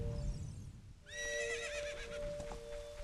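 A horse in the Super Mario 93 video game gives a loud, clear whinny that rises and wavers over a low background rumble, with no voices.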